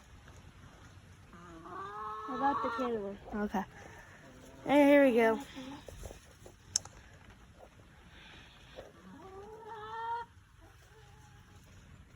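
Backyard hens cluck and squawk in short bursts during rain while egg collecting, with a person talking nearby between the calls.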